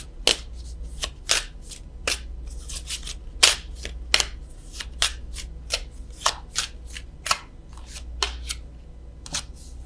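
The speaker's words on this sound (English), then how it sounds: "I am going to draw a love card from the French vintage stamp Love Oracle." French vintage stamp Love Oracle cards being shuffled by hand, a quick series of crisp papery riffles and snaps repeating irregularly over a quiet low hum, close and alone.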